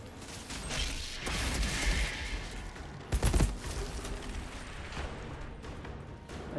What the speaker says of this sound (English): Yeah, this gun shreds just through them.